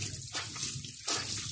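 Cloth rag being washed and soaked in water, with close splashing and sloshing, short gushes of liquid swirling and dripping, and no voices over it.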